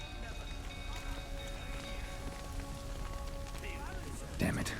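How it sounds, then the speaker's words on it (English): Steady rain patters in The Witcher 3 game world, a constant close wash of drops under faint tonal ambience, with a brief louder thump near the end. "Looks like rain."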